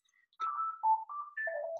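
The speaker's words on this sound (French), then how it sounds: "Ah, téléphone." A telephone rings in a café next door, giving a short melodic ringtone of several stepped tones. It is fairly faint and distant, with no speech over it.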